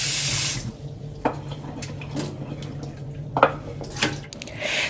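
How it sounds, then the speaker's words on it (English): Tap water runs continuously into a sink while an earthen bowl is rinsed, with a few soft knocks and clinks of the bowl against the basin, close and steady, no voices. "So here I will rinse my earthen bowl and also wash off my vegetables"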